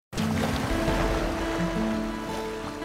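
Strong sea current surging around the houses of Isla Puting Bato in Manila, a loud, continuous rush of churning water and surf that sets in abruptly and holds steady, with a low tonal hum running beneath it.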